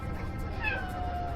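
A large black cat meows once, a clear falling cry over a steady low background hum, used as a sound effect in a Spanish audiobook of a horror story.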